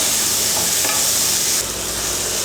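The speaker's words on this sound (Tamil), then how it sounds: "இப்போ தக்காளி போட்டுக்கலாம். தக்காளி ஒரு 3 நிமிஷம் நல்லா வதக்கிக்கலாம்." Onion and tomato sauté in hot oil for a dried-fish thokku, giving a loud continuous sizzle with scraping stirs, close up, easing slightly after a stir.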